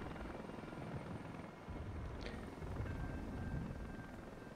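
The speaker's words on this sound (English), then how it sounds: "Once the infantry deploy, the helicopters will just go off the map." Helicopters fly off the map in the Regiments wartime strategy game, a steady rotor drone and engine wash holding at moderate level throughout with no speech.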